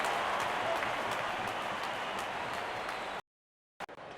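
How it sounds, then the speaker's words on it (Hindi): Crowd applause in an IPL cricket stadium after a six during a KKR vs MI match, a steady dense roar of clapping that fills the space for about three seconds, then cuts abruptly to silence before briefly returning. "जब अपोनेंट फैंस भी ताली बजा दे तो समझ जाइए बैटिंग कमाल की हुई है"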